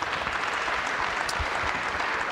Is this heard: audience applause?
yes